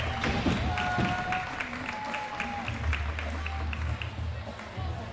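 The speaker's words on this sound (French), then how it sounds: "c'est un applaudissement pour Johan" At an amateur scooter freestyle contest final, spectators clap and cheer for a rider. The applause is continuous, with a low droning hum and brief voices mixed in.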